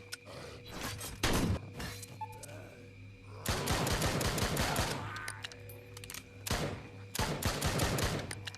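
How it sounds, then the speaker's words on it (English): A Gatling gun in the Deadly Defense video game fires in several short, loud bursts of rapid shots separated by brief pauses, with impacts and a steady background hum between them. "Alternate use of the Gatling gun in short bursts will help manage the flow."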